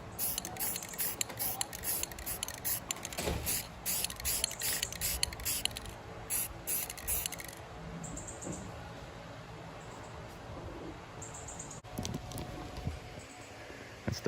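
Spray paint can spraying onto the roof of a 2003 Ford Expedition to cover rust repair: rapid sputtering hiss in short bursts during the first half, then a quieter, steadier hiss of background noise.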